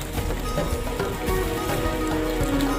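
Heavy rain pours steadily, a dense broadband hiss with scattered patter of drops hitting a surface, continuous and close throughout.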